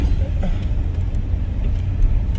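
A car turns into a garage at low speed, a low, steady engine rumble with faint road noise and no clear voices.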